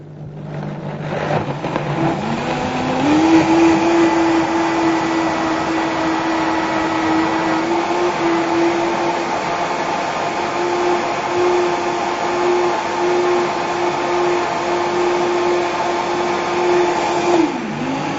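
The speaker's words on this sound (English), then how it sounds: "Okay, I'll put it on the blender now." A Vitamix blender blending soup, its motor starting up and rising to a steady, loud, high whine that holds for about fifteen seconds before winding down near the end.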